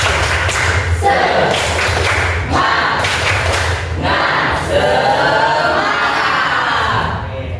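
A class group performs the rhythmic 'tepuk semangat' clapping chant together, loud bursts of claps and shouted chanting in quick patterned sets, crowd-like and energetic throughout.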